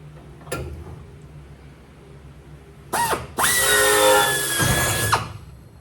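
Power drill boring a hole in the tail cone of an RV-10 kit aircraft during its build: a brief spin-up, then a loud sustained high whine for about two seconds before winding down, close by in a quiet workshop.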